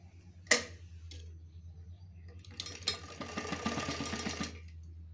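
A sewing machine stitches fabric while a ghaghra's magji trim is being sewn. A sharp click comes first, then a quiet burst of rapid, steady stitching lasting a couple of seconds, with faint talk nearby.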